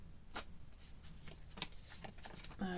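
A thick-stock tarot deck is shuffled by hand, giving several crisp riffling bursts spaced across a few seconds, close and fairly quiet, with a brief voice-like sound at the end.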